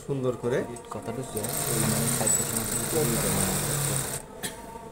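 A sewing machine stitches a basic shirt collar, running steadily and close for a few seconds after a brief voice at the start, then stopping just before the end.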